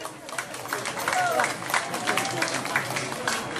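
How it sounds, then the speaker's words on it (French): Applause for an audience member at a Dipavali parade in Piton Saint-Leu, a moderate crowd clapping steadily at medium distance, with voices and faint chatter running underneath. "Je demande d'applaudir M. Boulot Domaine"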